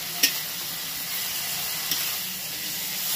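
Prawns frying in a pan, a steady, fairly quiet close sizzle and hiss, broken by a couple of small pops or stirring taps.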